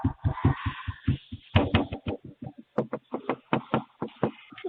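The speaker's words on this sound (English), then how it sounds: "Please don't knock on the door." Repeated knocking on a door, a rapid series of sharp raps in uneven bursts, close and fairly loud with no other sound.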